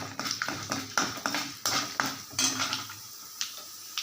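Mustard seeds and chana dal crackle in hot oil in a pan for upma, heard as a string of sharp clicks and metallic clinks that come at irregular intervals, close and moderately quiet.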